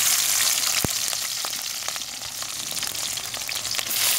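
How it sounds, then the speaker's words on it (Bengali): Spices tempered in hot oil in a wok over a clay stove fired with fallen leaves, a steady loud sizzle and crackle throughout with a few sharp pops, no talking. "এখন কড়াইতে তেল দিয়ে আমি বাগার দিব।"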